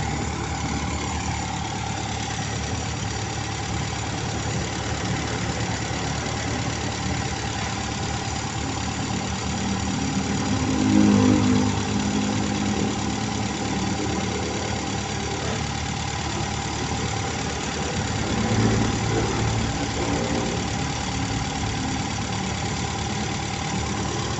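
Car engine held at raised RPM while the bimetal vacuum switch is checked, a steady continuous drone with a faint knock and two brief swells in loudness, heard alone without talk.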